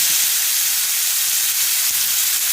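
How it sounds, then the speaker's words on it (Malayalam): Fish sizzling in a hot frying pan, a steady loud broadband hiss and crackle that holds evenly throughout with no talk. "ഇവിടെ ഫ്രൈ പാൻ ചൂടായിട്ടുണ്ട് അതിലേക്ക് ഇനി ഫ്രൈ ആക്കാൻ"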